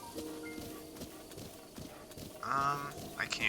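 Horse hooves clip-clop at a steady walking rhythm in a Zelda game set in Hyrule field, moderately close and fairly quiet, with some brighter in-game sound effects near the end.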